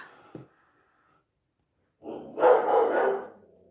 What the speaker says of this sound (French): Désolée, mon chien aboie.